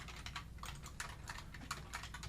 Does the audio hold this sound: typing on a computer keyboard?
yes